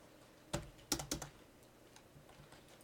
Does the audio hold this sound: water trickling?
no